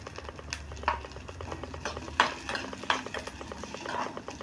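Chopped onion sautéing in a pan for a chicken curry, with a low sizzle under repeated close scrapes and clinks of a spoon against the pan, stirring at a steady rhythm with no one talking.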